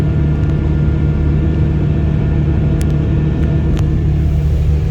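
Fendt 1050 tractor engine pulling under load at about 1550 RPM, a steady, loud, low droning rumble with a constant hum and no talk over it.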